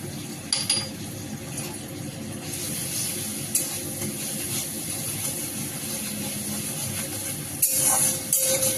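Ginger paste sizzles and fries in a pan, a steady hiss with occasional stirring scrapes, close and continuous throughout.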